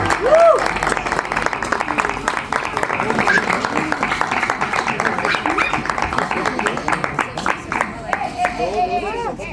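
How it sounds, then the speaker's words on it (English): Sustained applause from an audience after a live music panel discussion, steady dense clapping lasting the whole stretch with crowd noise and some voices mixed in. "We live for the applause."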